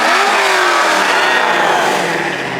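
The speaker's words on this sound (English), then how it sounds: "Listen to those turbos." Twin-turbo Lamborghini Aventador revving hard at a car show, a loud sustained roar that falls slightly in pitch as it holds.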